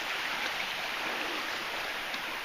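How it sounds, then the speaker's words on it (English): Steady broadband rush of a stream flowing over bedrock, water running continuously and fairly close with no gaps, no voices over it. "Got some pretty good water flow."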